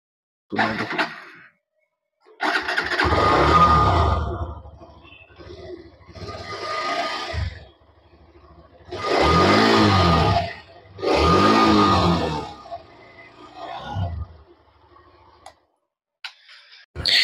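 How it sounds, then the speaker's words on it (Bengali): A Hero Xtreme 125R motorcycle, a 2024 model, starts up and its engine and exhaust rise and fall in several loud rev bursts, separated by quieter idling gaps. "এবার আমি আপনাদের এর এক্সস্ট সাউন্ড আর ইঞ্জিনের সাউন্ড একবার শুনিয়ে দিচ্ছি স্টার্ট করে।"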